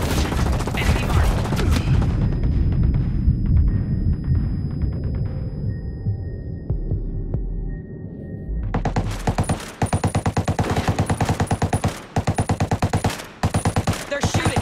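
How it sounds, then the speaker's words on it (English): Gunfire in Ghost Recon Breakpoint, a military shooter game: a heavy blast trails off into a ringing tone, then rapid automatic bursts crackle in fast, even rhythm with brief pauses, loud and close, mixed with game sound. "They're shooting."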